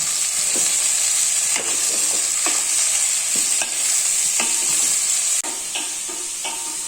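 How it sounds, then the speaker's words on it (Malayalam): Finely chopped medium-sized onions sauté in hot oil for an egg curry, giving a loud, continuous hiss with soft periodic scrapes of stirring; the sizzle drops slightly in level near the end. "ചെറുതായിട്ട് നൈസായിട്ട് അരിഞ്ഞത് ഇട്ട് കൊടുത്തിട്ട് നന്നായിട്ടൊന്ന് വഴറ്റിയെടുക്കാം"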